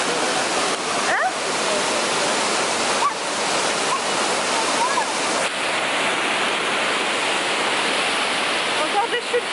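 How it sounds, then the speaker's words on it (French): Waterfall in Mont-Tremblant National Park roaring continuously and loudly nearby, a dense rushing hiss of falling water with brief voices and a few clicks over it. "Encore des chutes pour vous les amis."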